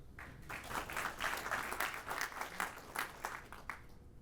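Applause from an audience at a venture capital panel on AI investment greets two business partners, Sudha and Abzina, with brisk, dense clapping throughout, fairly quiet overall and fading away near the end.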